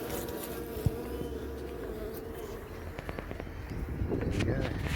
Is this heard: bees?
yes